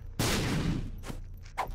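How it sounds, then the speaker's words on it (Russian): A bomb explodes in The Binding of Isaac video game, a sudden loud blast with a rumbling tail, followed by a few shorter bursts of sound. "Ладно, взрываем."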